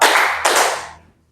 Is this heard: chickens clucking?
no